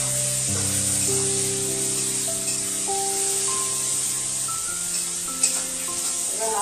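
Torn green chillies sizzle in a pan for a bottle gourd skin dish, giving a steady hiss partly masked by a melody playing over it, with one brief clink near the end.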